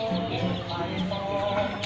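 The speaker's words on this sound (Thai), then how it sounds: "ลูกไก่แกเยอะครับ" Faint, high chirping from a group of farm-raised chicks in an enclosed aviary-style pen, over a steady, noisy background hum, with brief peeps repeating irregularly.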